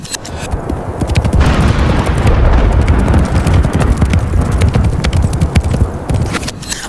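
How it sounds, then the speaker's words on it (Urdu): Horse hooves gallop over desert sand as a sound effect, a dense, loud, continuous pounding of many hooves that swells in and holds steady, with heavy low rumbling and no voices. "جب صحرا کی ریت پر صرف گھوڑوں کی ٹاپ سنائی دے رہی تھی"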